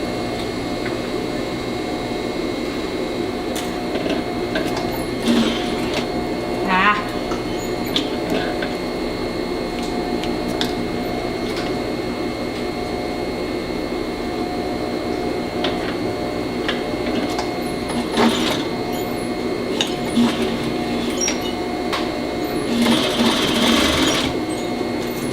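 A sewing machine runs a straight seam on a vest with a steady, fast mechanical whir of needle strokes, close and continuous, broken by a few brief clicks and shifts of fabric.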